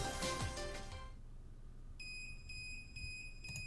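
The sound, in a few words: Procyon device beeping loudly, from the video game Root Double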